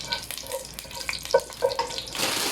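Broken vermicelli browning in two spoons of butter in a pan, a close soft sizzle with short scraping stirs and light clinks, rising to a fuller hiss near the end.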